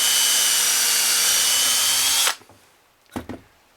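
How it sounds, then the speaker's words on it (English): A power drill bores a pilot hole through a wooden tree limb, a loud steady high whine for about two seconds that cuts off abruptly, followed by a couple of brief knocks and handling sounds. "after I drill a hole through this."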